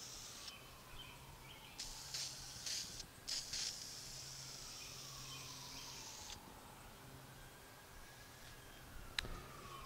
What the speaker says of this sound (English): You just got to spray it on, and it just takes a few minutes to dry.